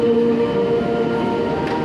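The Malabar passenger train from Bandung at Kebumen station at night: a steady, close, loud rumble of rolling wagons with a faint tonal hum and no speech.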